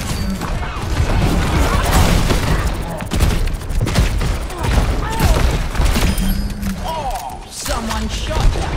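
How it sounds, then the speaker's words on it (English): Heavy gunfire from the first-person shooter Overwatch 2 fills the scene: dense, continuous bursts of shots, crashes and thuds layered with game effects, loud and busy throughout with no pause. "Someone shot you."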